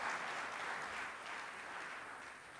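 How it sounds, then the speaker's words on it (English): An audience at a smart-cities conference applauds, a soft, steady wash of distant clapping lasting a few seconds with no talking over it. "Yes, you can applaud."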